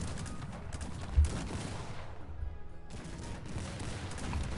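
Riflemen fire volleys in the strategy game Cossacks 3, with dense crackling musket fire, a sharp thump near the start, a brief lull, then more ragged shots resuming at steady loudness.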